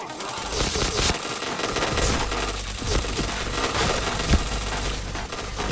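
Dense automatic gunfire from the shooter game PointBlank rattles loudly and almost without a break, with overlapping bursts of shots packed into a constant loud mix.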